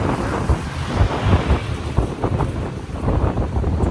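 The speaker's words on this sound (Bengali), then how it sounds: "হাওয়া দিচ্ছে," Strong wind buffets the microphone beside a seaside railway line, rumbling gusts rising and falling with a faint wash of surf beneath and no voices.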